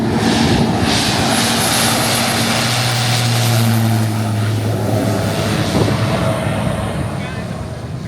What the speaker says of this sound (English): We got a plane taking off right here.